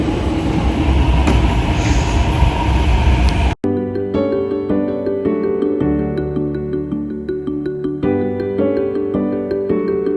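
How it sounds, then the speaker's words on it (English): A Singapore MRT train pulls in, first a loud broadband rushing roar, then after an abrupt cut a steady tonal whine with stepped harmonic pitches as the motors slow, with no talk over it. "I do see our train coming"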